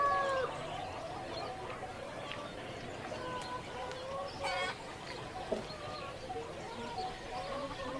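Chickens cluck and chatter in a yard, several birds calling irregularly at moderate distance over a faint background hum.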